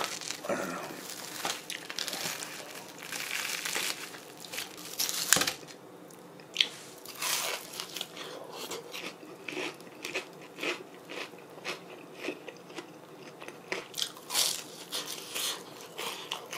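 Crunchy fried pork cutlet is bitten and chewed up close, with loud crisp crunches and crackles in irregular bursts, a sharp bite standing out early, then softer chewing crunches.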